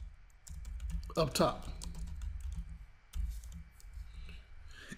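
Keys clatter steadily on a computer keyboard as code is typed for a Selenium 4 DevTools test, a dense burst of clicks around the middle, with a person talking briefly over the typing.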